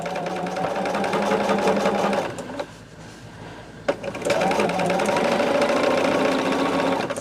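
A sewing machine stitches a quilt block with a steady, close mechanical whir, breaks off for about a second and a half, then runs on at the same even pace.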